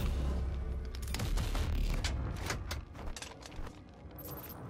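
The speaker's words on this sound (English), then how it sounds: "Oh, you're the chain gun." A chaingun fires a rapid, dense volley in Doom (2016), loud bursts blending with booming impacts, then thinning out toward the end.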